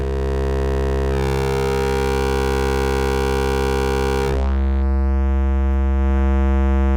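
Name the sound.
synthesizer oscillator with drive distortion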